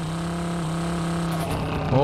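A steady car engine drone from the driving game Drive Beyond Horizons holds for a couple of seconds. Near the end it shifts and wobbles as other game noise breaks in.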